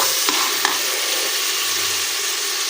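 Meat and onions frying with garlic and ginger in a pot for yakhni pulao, a continuous close sizzle with a couple of sharp stirring clicks and scrapes, no talking.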